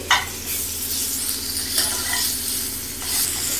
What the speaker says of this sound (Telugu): ఇప్పుడు మనం తరిగి పెట్టుకున్న ఉల్లిపాయ ముక్కలు కూడా వేసేసుకొని వేయించుకోవాలి